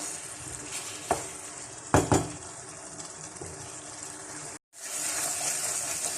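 Beef with masala frying in a karahi over high heat, a steady close sizzle broken by a few sharp metal clanks of stirring and one brief drop in sound near the end.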